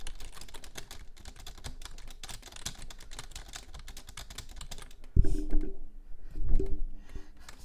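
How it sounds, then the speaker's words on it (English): Loud computer keyboard typing, a dense close clatter of keystrokes for about five seconds, then a thump and a brief low hum as the typing gives way. "my keyboard type is going to be really loud too"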